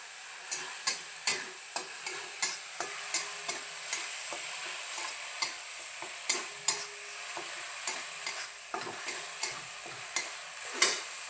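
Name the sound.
onion and ground masala paste being sautéed in a pan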